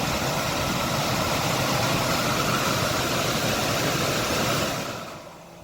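A Honda CR-V cabin blower motor, freshly cleaned, runs on high with a steady, loud broadband whir, then spins down and fades near the end.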